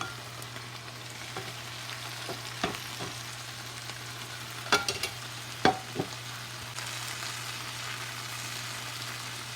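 Aloo gobi, potato and cauliflower sprinkled with dry fenugreek leaf and garam masala, gets a final stir in a pan: quiet steady sizzle with a handful of close, sharp utensil scrapes and taps.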